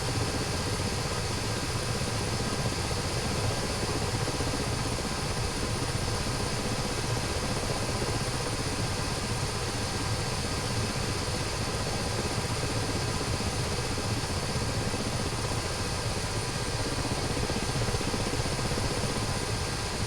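A helicopter in a flight simulation game flies with its engine and rotor running, a dense, steady drone and whine that holds constant and fairly loud for the whole stretch, with no voices.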